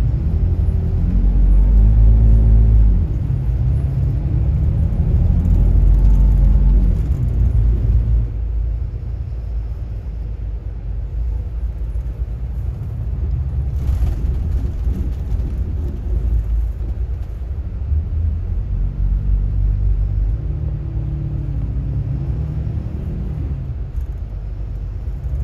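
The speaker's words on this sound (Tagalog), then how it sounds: "heto tayo pinapanood yung pag-akyat dito sa Santa Fe at ini-enjoy yung tunog ng makina nitong Volvo V11R." Volvo V11R first-class bus engine hauling up a mountain road near Santa Fe toward Dalton Pass: a loud, continuous low diesel drone with a rising and falling pitch as it labours uphill, heard from inside the bus with no talking.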